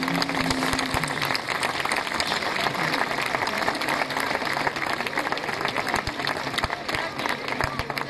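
Audience applause at a live folk concert at a kermesse in Bigand, a steady dense wash of clapping filling the clip, with faint voices mixed in underneath.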